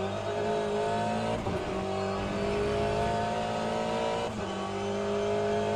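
BMW hybrid GTE race car engine at high revs, around 5,000 to 6,000 RPM, droning loud and steady from inside the cabin with little insulation, the pitch holding with slight dips.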